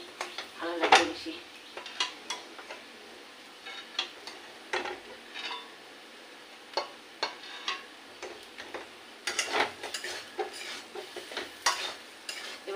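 A spoon scrapes and clinks against a pan while a filling is stirred, soft irregular knocks and scrapes in short bursts, fairly quiet and close.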